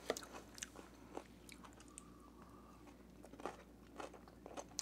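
Close, quiet crunching bites into a cucumber tomato salad with onion and feta, with several crisp chews and crackles coming in uneven bursts, no talking.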